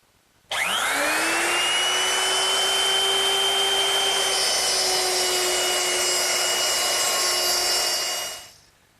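A woodworking router fitted with a guide fence cuts a mortise in wood while making a medicine cabinet: a sharp spin-up whine, then a sustained loud high-pitched motor scream for about seven seconds before winding down.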